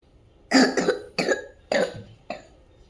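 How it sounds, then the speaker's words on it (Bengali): A sick child with congestion in the throat coughing close up: about five short, wet, hacking coughs in quick irregular bursts separated by brief silences. "কাশি হচ্ছে একটু গলাতে অসুবিধা হচ্ছে"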